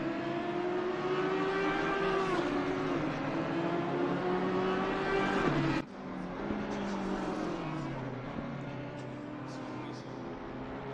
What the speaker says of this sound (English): The Audi closed up massively on the BMW under braking.